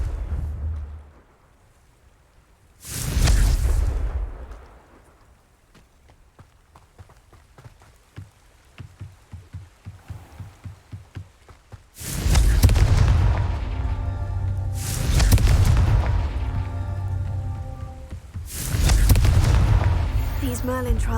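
Four heavy Confringo spell explosions from Hogwarts Legacy go off, each one a loud booming blast. Long gaps separate them, filled with quieter rhythmic steps and faint background sound.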